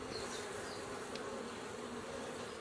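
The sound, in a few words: honeybees buzzing at an open hive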